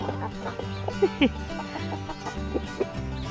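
Chickens clucking in short, scattered calls over a steady low background hum, with a few sharper squawks standing out nearby.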